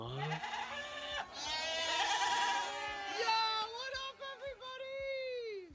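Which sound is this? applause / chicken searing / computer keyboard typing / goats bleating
goats bleating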